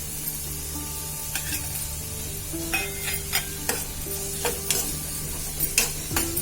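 Onion with a few garlic cloves frying in a pan makes a close, steady sizzle, while a spatula scrapes and knocks against the metal in an irregular stirring rhythm.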